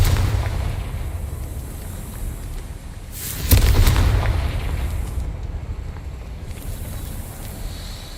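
A Confringo spell detonates in a Harry Potter video game, one loud burst of explosion standing out against a low rumbling background before it fades back into steady ambience.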